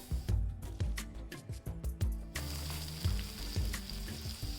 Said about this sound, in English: Heat 3 to 4 tablespoons of oil and then add mustard, cumin seeds, fennel seeds and fenugreek seeds